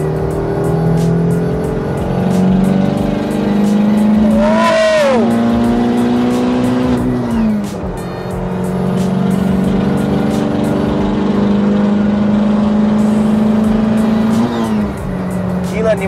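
A Honda Brio turbo with a 320 hp L15A engine revs hard through third gear from about 80 km/h. The loud, continuous engine roar climbs in pitch, with brief dips at gear changes, over steady road and wind noise.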